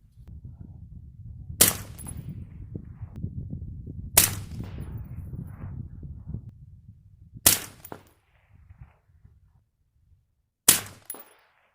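An AR-15 rifle loaded with reloaded ammunition fires four sharp, loud shots at uneven intervals outdoors, each with a short echo. A low background rumble fills the gaps between shots.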